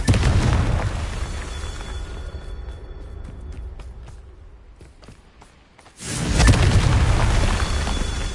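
A Confringo fire spell blasts in Hogwarts Legacy: a loud booming explosion with crackling bursts that fades into a quieter stretch, then a second heavy blast near the end.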